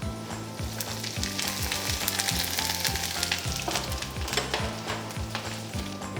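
Garlic and ginger fry in hot oil, a steady close crackling sizzle with a busy spitting texture and occasional scraping, continuing without talk.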